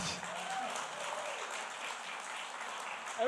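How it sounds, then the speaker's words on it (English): Audience applause for the hand-clap players after a long Tibetan-Colombian fusion song at a live concert, a steady dense wash of clapping filling the whole stretch at even loudness. "Give it up for my clap players, my clappers."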